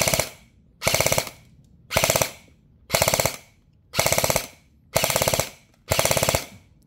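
An airsoft gun fires in full-auto, seven sharp bursts of rapid shots at an even rhythm with short pauses between them, loud and close with no talk.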